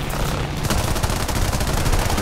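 An aircraft machine gun fires in War Thunder, with a dense, loud, continuous burst of rapid gunfire held steady for the whole stretch.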